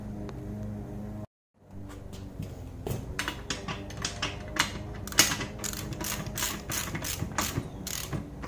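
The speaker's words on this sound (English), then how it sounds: "now we can pretty much tighten everything up" A ratchet wrench tightens bolts on a Harbor Freight 1-ton engine stand, giving steady runs of close, crisp clicking strokes after a brief silence, repeating rhythmically with a few metallic clanks.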